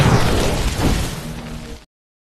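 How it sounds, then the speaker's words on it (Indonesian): A single burst of explosive noise as burning chicken blood ignites, dense and loud, fading over under two seconds before cutting to silence. "akhirnya darah ayam tersebut terbakar dan meledak"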